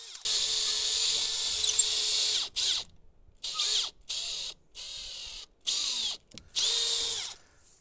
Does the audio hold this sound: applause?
no